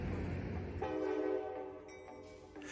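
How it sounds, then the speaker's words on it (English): An Amtrak Capitol Corridor train departs a station northbound, giving a steady low rumble with sustained tonal horn or engine notes, heard from nearby without talk. "our train departs, continuing northbound towards Emeryville and eventually Sacramento."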